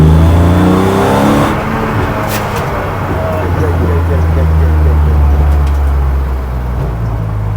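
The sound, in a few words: race car engine accelerating downhill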